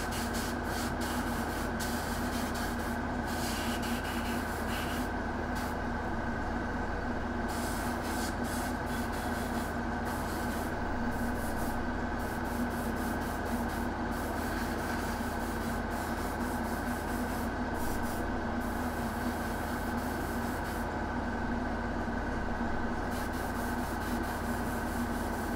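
An airbrush sprays paint onto a miniature figure, a steady continuous hiss of compressed air that runs unbroken throughout, fairly soft and with no voices.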